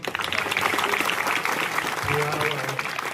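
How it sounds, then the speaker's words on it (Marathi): A devotional gathering at a chanting week in Jintur claps for Mauli. The applause is dense and lively, with a voice briefly heard over it. "माऊलीसाठी टाळी वाजवणार तुम्ही"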